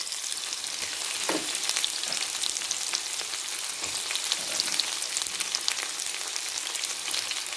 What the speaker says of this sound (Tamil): இப்போ வெங்காயத்தை போடுவேன்